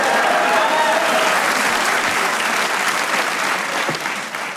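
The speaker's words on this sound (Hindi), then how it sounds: "तालियां बजाइए।" A studio audience at a Pakistani comedy talk show claps in sustained, loud applause, tapering slightly toward the end.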